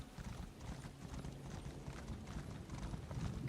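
Hooves of a companion horse clip-clop steadily in a walking rhythm through Elder Scrolls Online, faint and continuous with a low mechanical hum behind.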